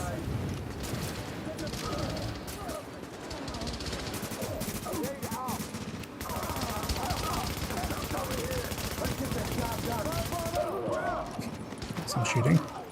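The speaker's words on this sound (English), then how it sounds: "Some shooting." Bursts of gunfire from The Division video game, rattling on and off through a dense, busy mix with speech running underneath for most of the stretch.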